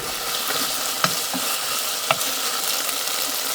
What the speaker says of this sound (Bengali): মানে মশলাটা মশলাটা ভাজা হয়ে যাবে